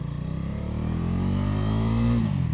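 Close, loud engine of a Bajaj Dominar 350 motorcycle being ridden in sport mode, a throaty drone rising in pitch as it accelerates, then easing off near the end, with no talk.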